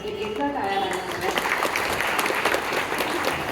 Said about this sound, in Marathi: एकदा टाळ्या वाजवायच्या